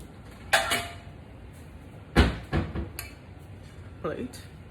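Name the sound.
getting a plate from the cupboard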